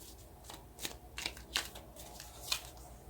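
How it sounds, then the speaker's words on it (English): Tarot cards shuffled by hand, heard as a few close, crisp riffles and slaps spaced about a second apart, clear and alone with no talk. "now let's get a card for how you should go forward."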